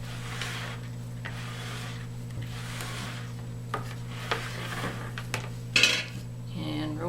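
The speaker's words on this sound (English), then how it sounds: "Scrape down the sides one last time." A utensil scraping down the sides of a pot of warm goat's milk soap mixture, soft repeated rubbing strokes with a few light clinks against the pot over a steady background hum, close and quiet.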